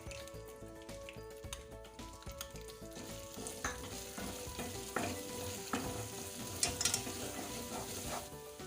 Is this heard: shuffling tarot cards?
no